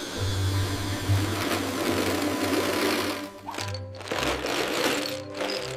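A cartoon vacuum cleaner hums steadily as it sucks up beads, a loud continuous motor drone that briefly dips and stutters before resuming.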